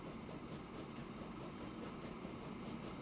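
A small steam-era train in the Transport Fever 2 video game labors up a steep grade, a faint, steady rolling rumble with a soft rhythmic clatter.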